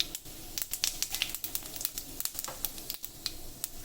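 Cumin seeds crackle and sizzle in hot oil in a kadai, with sharp popping bursts over a steady frying hiss, close and lively throughout.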